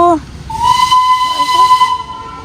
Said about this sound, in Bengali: স্টিম ইঞ্জিন, পুরনো টয় ট্রেন, নতুন স্টাইল।